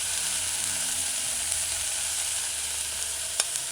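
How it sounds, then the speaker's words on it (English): Garlic puree sautés in hot oil, a close, steady hiss and crackle running unbroken, with one brief sharp tick near the end. "now shred or grind garlic to puree added to the heating oil. Stir it in, allow sautéing."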